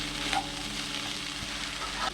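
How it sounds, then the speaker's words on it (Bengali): Chopped banana flower fries in hot oil in a pan, giving a close, steady sizzle with faint stirring scrapes, alone and without voices. "মোচাটা কিন্তু খুব ভালো ভাজতে হবে"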